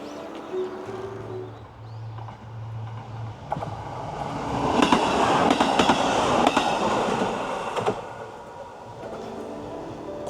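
A yellow train rumbles past nearby, its roar building and then fading, with rhythmic rail clicks and birdsong early on.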